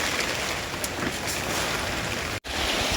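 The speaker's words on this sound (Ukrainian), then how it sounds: "А в нас пішов такий тихий-тихий, спокійний дощик." Light, gentle rain falls on dry farmland, giving a steady soft hiss of drops with a brief break near the end and no talk.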